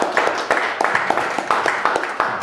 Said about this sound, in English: So give a round of applause to Ambrose.